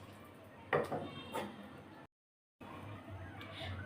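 A lid is set over a pot of noodles boiling on a home stove, making two close, sharp metallic knocks a moment apart against a low background hiss, then a short dead gap before the kitchen hum returns.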